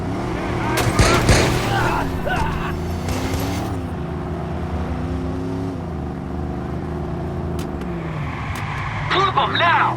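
In a Watch Dogs chase, a car engine roars and shifts pitch as the vehicle accelerates and revs, loud and close, with brief crash-like bursts near the start and end.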